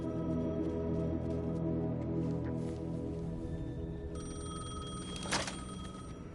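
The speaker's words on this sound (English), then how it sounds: "The payphone was ringing." A payphone in the video game Alan Wake 2 rings with a repeated metallic bell, set against a low droning ambient score, with a louder ring burst near the end.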